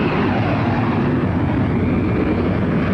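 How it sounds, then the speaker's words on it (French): A presidential command aircraft readies for takeoff at Conakry-Gbessia airport, its engines making a loud, steady, broadband roar that runs unbroken throughout. "Le président Abdou Diouf dans son avion de commandement qui se prépare pour le décollage."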